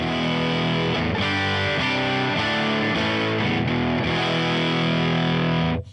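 Electric guitar through a Line 6 HX preset with heavy distortion, loud sustained chords ringing continuously for about six seconds before cutting off, with no talking.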